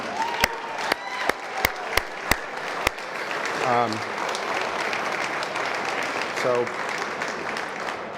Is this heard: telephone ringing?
no